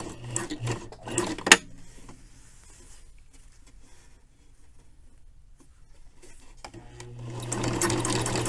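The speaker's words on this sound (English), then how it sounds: "So now I'm just going to fold it up one more time and sew it all the way around." A sewing machine stitches a narrow hem around the edge of a garment, running in steady bursts near the start and again at the end, with a quieter pause between.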